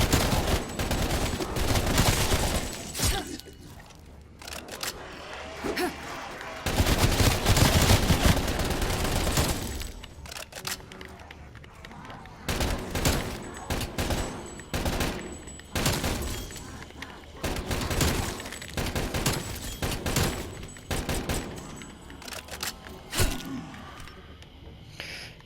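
Video game gunfire, likely from a shooter sequence, comes as repeated rapid automatic bursts and heavy single shots, loud and close, with brief pauses between volleys and some talk mixed in.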